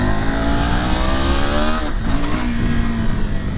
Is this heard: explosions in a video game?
no